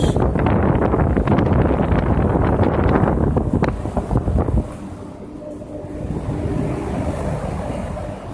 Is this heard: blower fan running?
yes